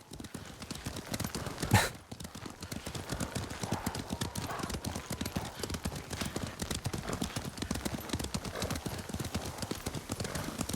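Horse hooves clip-clop in Ghost of Tsushima, a steady, close, continuous rhythm of hoofbeats with a brief louder thump early on and faint background ambience.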